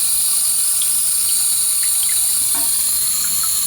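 A toilet tank refills slowly with a continuous, steady hiss of running water close by, unbroken from start to finish.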